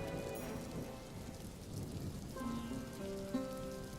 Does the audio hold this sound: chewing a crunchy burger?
no